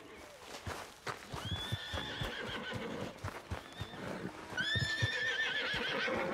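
A horse in Red Dead Redemption II whinnies twice, with shrill drawn-out neighs over hoof clip-clops and background rustle, close by.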